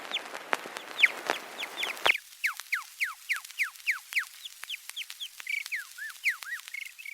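A man whistles birdsong imitations on an old phonograph recording, with a long run of rapid, bright, chirping and trilling notes in quick rhythmic bursts over faint surface hiss.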